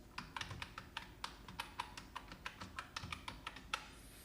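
Steady typing of an Aadhaar number on a computer keyboard during a PAN card application, a rapid run of evenly spaced clacking keystrokes close by and fairly quiet, with no voices.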